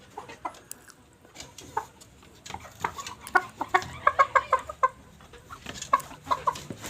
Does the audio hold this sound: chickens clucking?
yes